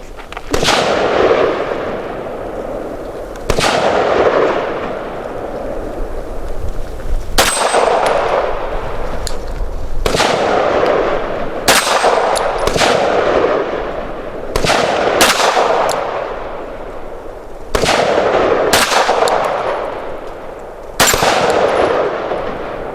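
Gunshots from a Canik METE SFX pistol ring out at an outdoor range and strike steel targets. There are about eight to ten loud, sharp reports, spaced unevenly, each followed by a metallic ring.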